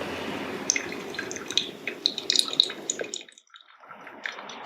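Water dripping through coffee grounds in a pour-over brewer, a close stream of small trickles and drips that thins out and nearly stops toward the end.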